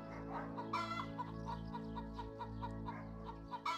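Chickens cluck repeatedly in a steady rhythm, with a low constant hum running underneath throughout.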